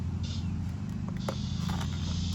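A Shark vacuum cleaner runs with a steady, loud motor drone and a harsh high whine, plus a few brief clicks and rattles throughout.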